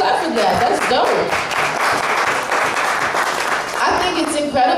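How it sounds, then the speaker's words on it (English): Audience at a poetry slam in Seattle clapping and applauding, a full continuous wash of claps with cheers and voices mixed in, loud and sustained throughout. "you gotta clap for that"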